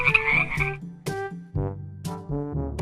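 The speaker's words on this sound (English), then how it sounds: "Frog." A frog croaks in a wild animal sound lesson for kids, giving loud, close, buzzy calls in several separate bursts that repeat through the moment with no talking over them.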